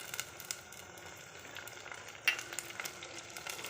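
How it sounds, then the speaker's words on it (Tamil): Tomatoes frying in oil with softened onions for a coconut-free katla fish head curry, giving a steady, quiet sizzle with a few soft stirring clicks and one brief sharper tap. "நம்ம தக்காளி போட்டுடலாம்."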